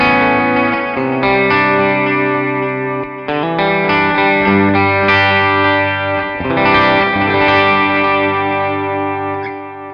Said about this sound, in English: It's a classic delay. It sounds great.